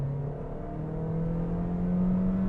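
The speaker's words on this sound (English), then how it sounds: "You can hear that CVT doing its thing." Toyota Corolla Hatchback SE with a CVT accelerating hard, its engine drone holding a steady, slowly rising pitch as the speed builds, loud and close from inside the cabin.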